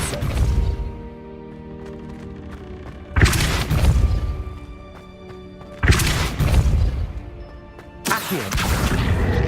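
Depulso spell blasts in Hogwarts Legacy, three or four loud booming impacts spaced a few seconds apart, each followed by a fading rumble.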